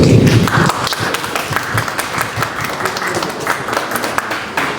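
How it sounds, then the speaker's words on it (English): An audience at a Miss World Philippines event in Manila breaks into loud, continuous applause, a dense wash of many hands clapping close by. "And let's give Mrs. Morley a warm applause."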